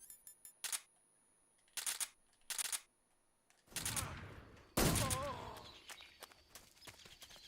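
Gunfire in the stealth video game Metal Gear Solid 3: a few sharp separate bursts followed by a louder, longer blast with a ringing tail, all fairly quiet.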